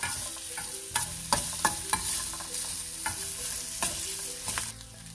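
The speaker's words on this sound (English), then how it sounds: "We'll fry the onions till they become translucent." Onions fry in a pan for kuska biryani, giving a continuous close sizzle punctuated by repeated sharp stirring clinks and scrapes of a utensil against the pan, with no one talking.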